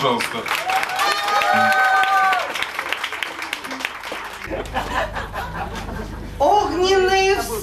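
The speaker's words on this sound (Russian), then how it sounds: "Чудовищные аплодисменты, пожалуйста." Audience applause at an amateur stage show: clapping and chuckling, with a voice talking over it, fading under speech before a brief loud burst near the end.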